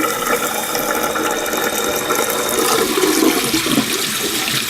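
Cloudy rust-removal liquid from an antique Plumb hatchet restoration is dumped out of a container, a loud continuous gushing and splashing pour with no talking.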